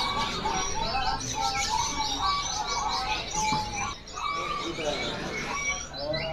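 A perenjak (prinia) calls among other caged songbirds at a bird market, bright chirps and tweets layered densely with a steady busy background and occasional voices.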